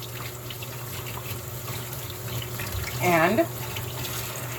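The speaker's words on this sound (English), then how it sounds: "with the green bananas, and I'm going to wash them" Running water from a sink tap fills a pot while green bananas are washed in it, a steady wash with a brief splashy burst near the middle, and a voice speaks a word over it.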